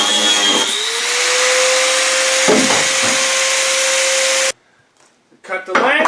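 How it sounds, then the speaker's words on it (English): A power tool cuts excess threaded rod inside a car trunk, giving a loud, steady whine for several seconds that stops abruptly, followed by faint handling noises. "The next step is to cut off the access threaded rod"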